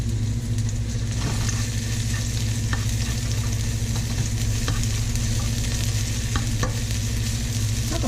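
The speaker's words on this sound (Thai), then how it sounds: "ผัดให้มันหอมๆนะคะเนาะ" Pounded chili and garlic sizzle and crackle in hot oil, stir-fried for Thai kaphrao. The frying is steady, close and loud for the whole stretch, with a low hum underneath and a few faint stirring knocks.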